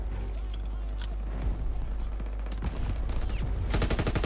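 Gunfire from the video game Call of Duty WWII, rapid bursts and shots layered over a constant low rumble, growing denser and louder toward the end with a sustained automatic volley.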